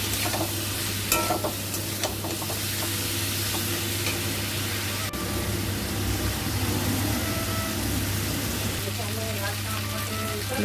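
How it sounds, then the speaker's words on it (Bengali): Vegetables fry with turmeric and salt in a pan, a continuous close sizzle with scraping stirring strokes, a low steady hum beneath. "সবজিগুলোকে ভালো করে ভেজে নেব। তার মধ্যে দেব হলুদ, নুন দিয়ে ভালো করে সবজিগুলোকে ভাজবো।"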